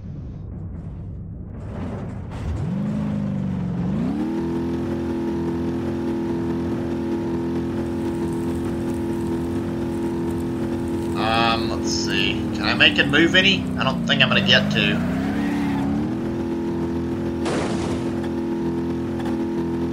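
Busted car engine in the BeamNG driving game, spinning a hamster wheel and holding a steady droning rev that dips and climbs, with rattling bursts near the end, while someone talks over it.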